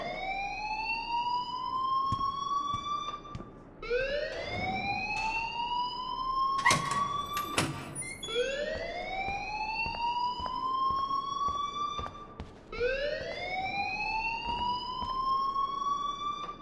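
A fire alarm in the video game Life is Strange wails in repeated rising sweeps, each climbing then holding, loud and close, with sharp clicks and thumps cutting in between cycles.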